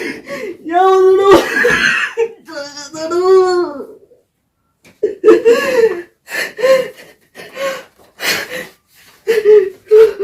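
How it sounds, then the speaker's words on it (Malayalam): A man coughs and gasps in strained, breathy bursts, first prolonged and raspy for several seconds, then after a pause as shorter broken coughs and throat sounds at close range. "എന്താ അച്ഛൻ ചുമക്കുന്നേ?"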